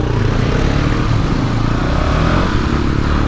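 A KTM Duke, a Pulsar NS200 and a TVS Raider set off together on a Saturday group ride, a loud, continuous engine drone with heavy rumble and wind noise throughout.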